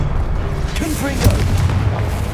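A booming explosive blast from the Confringo spell in the Hogwarts Legacy video game hits hard partway through, set in a dense game soundscape with a voice speaking over it.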